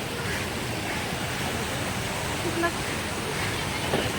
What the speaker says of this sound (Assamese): জুৰিটো এফালে বৈ গৈছে আগলৈ।